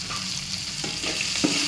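Onions sautéing in a pan over lowered flame for a Tamil pirandai thuvaiyal (adamant creeper chutney), a steady soft sizzle with a few scraping stirs of a spoon, close and moderately quiet, no voices.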